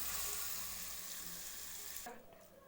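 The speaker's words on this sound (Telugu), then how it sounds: "ఇప్పుడు ఈ పోపు మిశ్రమాన్ని క్యారెట్ తురుములో వేసుకోండి" Hot tempering of oil with crushed garlic sizzles loudly onto grated carrot for a raw carrot relish, a steady broadband hiss that cuts off sharply near the end and leaves a faint clink.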